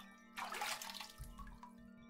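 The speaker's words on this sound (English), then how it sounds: "Fill the bucket with water." Water pours into a bucket in the video game Ib: a burst of rushing, splashing water that swells, then fades into a few softer trickling splashes over a steady low hum.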